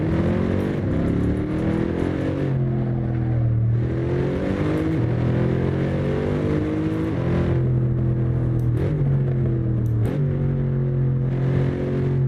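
A race car engine in the video game Assetto Corsa roars continuously, its exhaust note rising and dropping through repeated gear shifts and revs, loud and close throughout.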